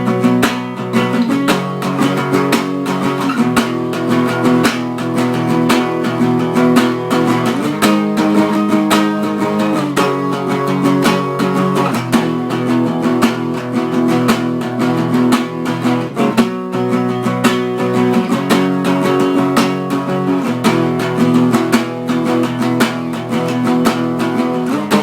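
Guitar plays the rhythm part of a song, strummed chords cycling through a repeated pattern, steady, close and full, with no voices.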